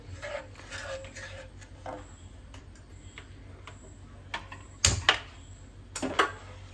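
Quiet, irregular scraping and tapping of a spoon stirring a yogurt curry in a pan, with a few sharper clinks near the end.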